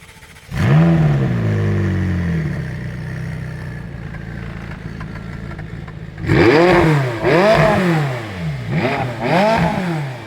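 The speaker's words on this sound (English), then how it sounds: "So let me start the car up." A McLaren 675LT starts with a sharp engine catch and settles to a steady idle, then several loud, quick revs rise and fall near the end, close and alone.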